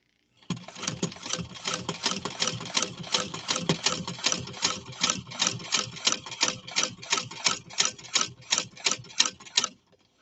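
A sewing machine stitches steadily for about ten seconds, a fast regular mechanical clatter that holds a steady rhythm and stops cleanly at the end, with no talking.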